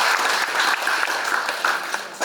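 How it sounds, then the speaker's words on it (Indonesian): Audience applause at an extraordinary congress of PPTI, a dense, steady wash of many hands clapping at close range for a couple of seconds. "Tepuk tangan."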